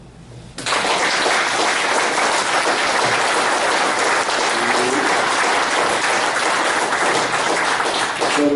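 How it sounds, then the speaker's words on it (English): Loud audience applause erupts at a sheriff candidate forum in Lake County, Florida, starting abruptly after a quiet moment and holding as a dense, even wash of clapping to the end. "I want to see by your applause who in here supports law enforcement."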